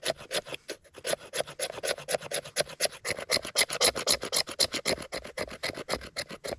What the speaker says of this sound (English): we are gonna scrape off some fat wood